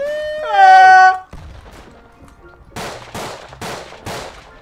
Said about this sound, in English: they're sniping at us